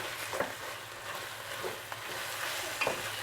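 Tomatoes sauté in a pan for tomato rice, giving a steady, quiet sizzle with a few soft stirring scrapes and no talking.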